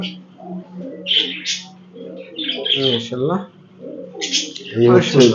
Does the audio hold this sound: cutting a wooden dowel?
no